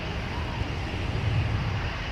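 A Delta Boeing 737 airliner touches down at MSP airport, heard as a low, steady, distant engine roar with a faint rumble that swells slightly midway.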